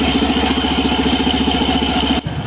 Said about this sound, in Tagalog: Narinig nyo yung kakaibang tunog na kumakaskas.